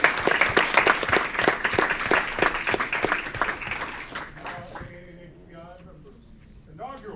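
A city council meeting audience applauds with dense, loud clapping for about four seconds, then it fades out and a few voices begin to speak.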